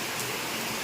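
Heavy rain pours steadily during a festival day, a dense, even hiss of falling water filling the short stretch with no gaps or voices.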